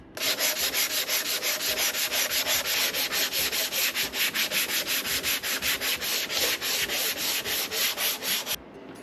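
Rhythmic hand sanding with 120 grit sandpaper on the body panels of a 1987 Jeep Wrangler under restoration: a loud, steady scratching that rises and falls with each back-and-forth stroke, alone and close, ending abruptly.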